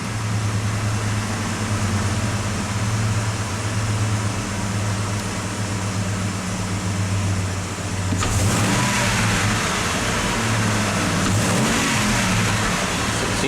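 A 1995 Ford F-150 engine with an intermittent stall fault idles with a steady low rumble, then revs up loudly around the middle and holds a higher roar before easing back, close by with no talking.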